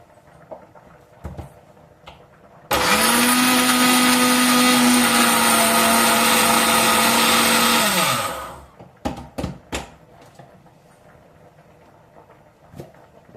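A mixer grinder grinding cumin and garlic whirs loudly and steadily for about five seconds, then winds down, followed by a few clattering knocks.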